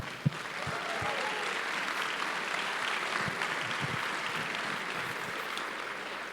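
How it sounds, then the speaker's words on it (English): A conference audience at Bitcoin Atlantis gives a sustained round of applause, a dense, steady wash of many hands clapping at even loudness for several seconds with no speech over it. "Let's get a round of applause for everyone."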